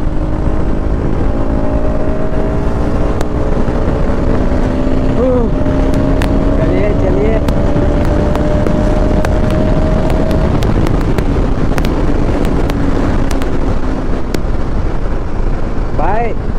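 KTM RC200 and RS200 motorcycles drag racing side by side, engines whining through rising gear changes under heavy wind buffeting on the microphone, loud and close throughout.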